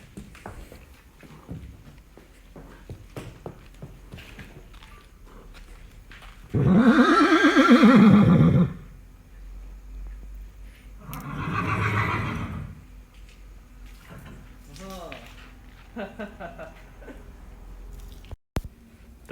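A mare being brought for water lets out one loud, close whinny, followed a few seconds later by a second, fainter neigh, with soft hoof and chewing sounds between.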